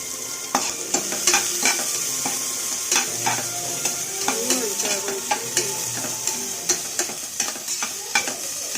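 Vegetable biryani masala with chillies sizzles steadily in a pan, a continuous close frying hiss punctuated by regular spoon scrapes and taps against the pan as it is stirred, no talking.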